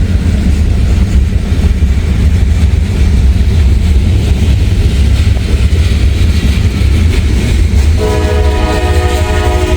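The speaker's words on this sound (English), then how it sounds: "I'm also waiting on a loaded ethanol train that has 2 Canadian National locomotives" Loaded ethanol train hauled by two Canadian National locomotives passing close on CSX tracks in rainy Hamilton, a loud continuous rumble and roar of rolling cars, with a horn sounding near the end.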